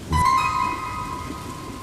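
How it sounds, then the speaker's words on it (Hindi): Heavy night rain pours in a forest as a steady broadband hiss. A sustained musical tone and a brief low thump at the start sit over it, and no one speaks. "रात के अंधेरे में जब बारिश ने अपनी गति और बढ़ा दी, राजेश को एक अजीब सी सरसराहट महसूस हुई।"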